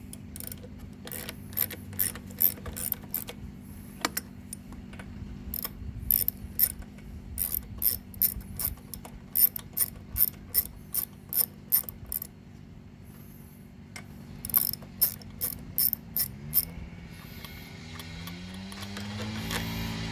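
Ratcheting wrench loosening a bolt on a Honda engine carburetor, a long run of quick mechanical clicks in short bursts with brief pauses, close and fairly loud, with no talking.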